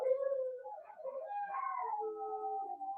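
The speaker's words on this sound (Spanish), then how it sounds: "Se escuchan mis perros quejarse, ¿no?" Dogs whine and howl nearby in a long, wavering stretch of rising and falling cries that keeps going, heard alone with no talk over it.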